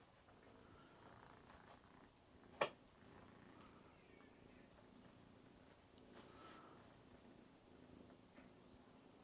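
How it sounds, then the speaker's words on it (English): A cat purrs softly and steadily up close, a low continuous rumble broken by one sharp click, with no talking over it. "Purring away."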